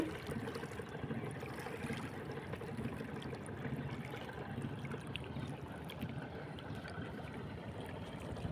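Steady, continuous rush of river water at Balashi, Fulchhari, Gaibandha, lapping and churning, filling the whole stretch evenly without pauses or voices.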